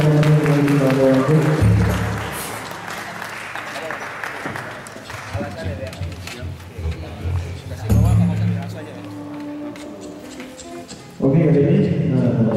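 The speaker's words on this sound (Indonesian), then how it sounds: "kasih tepukan yang banyak pada bapak-bapak yang di bawah." A crowd at a performance in Singosari, Malang applauds in a sustained, hissing wash that runs between bursts of amplified music and a voice.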